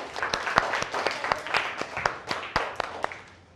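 A classroom of third-grade students clapping for a classmate, a loose scatter of individual hand claps at uneven rhythm, fairly quiet and close, with no talking over it.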